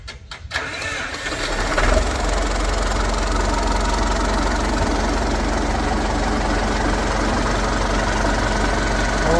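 A tractor engine cranks and catches, then settles into a loud, steady idle with a low, even chug that runs unbroken to the end, close by with no talking.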